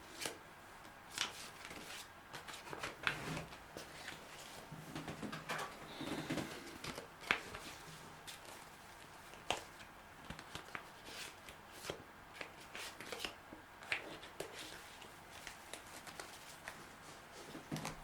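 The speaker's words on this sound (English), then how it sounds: "we're going to need to do a good shuffle" Tarot cards are shuffled repeatedly, a soft riffling and patting with irregular taps, quiet and close, with no talking.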